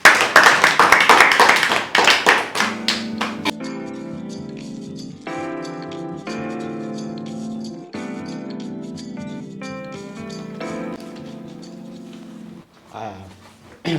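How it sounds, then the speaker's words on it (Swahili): A group of schoolchildren clap their hands in a brisk, steady burst for a couple of seconds before tonal music takes over and carries on to the end. "Pigeni makofi"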